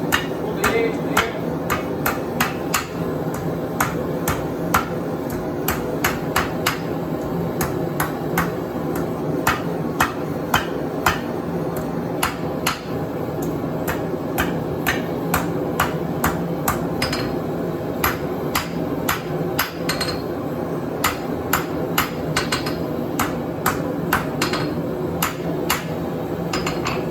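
Rapid hammer blows ring out on small steel stock being forged into a tip on the edge of the hammer, sharp metallic strikes coming in quick irregular bursts over a steady background hum for the whole stretch.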